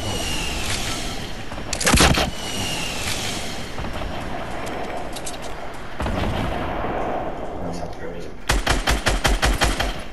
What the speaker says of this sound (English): This should keep shooting. Keep shooting again. Shoot it again. Keep shooting.